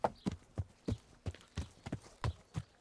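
Horse hooves clip-clopping in the video game Kingdom Come: Deliverance, a steady rhythmic trot of sharp, close hoofbeats with no talking over them.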